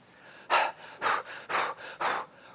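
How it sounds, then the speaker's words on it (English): Rapid shallow breathing, four quick breathy puffs in an even rhythm, close and fairly loud with nothing else around them. "Rapid shallow breathing, part of body alarm reaction."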